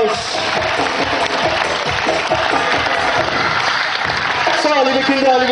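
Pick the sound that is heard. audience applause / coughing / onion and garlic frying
audience applause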